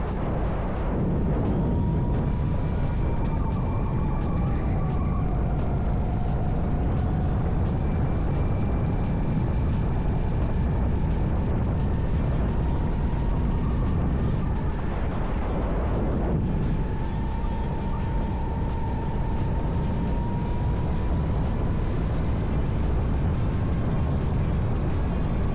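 Racing karts at Dallas Karting Complex during a league race, a steady droning engine note rising and falling with throttle, with other karts nearby and a pass around the midpoint, loud and continuous with no talk.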